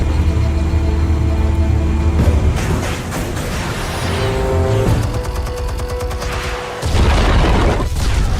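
Explosives detonating in Batman: The Telltale Series, loud booming blasts and rumbling debris layered with dense game action effects and crackling bursts, swelling and cutting out across several seconds.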